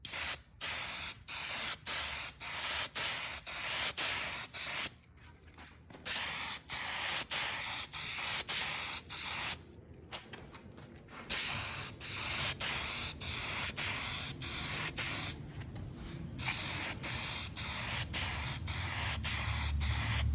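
Aerosol spray coat of lacquer over wooden horse stall name plates, a series of loud hissing bursts with short pauses and a few longer gaps between passes.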